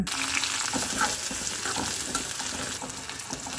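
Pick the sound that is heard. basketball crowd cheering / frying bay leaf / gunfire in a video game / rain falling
frying bay leaf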